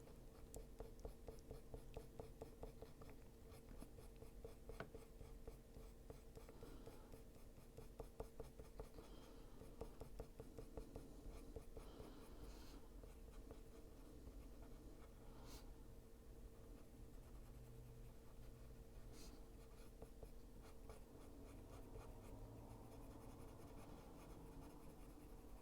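Colored pencil scratches steadily across paper in fine, rapid back-and-forth strokes, close and soft, continuing without pause over a faint background hum.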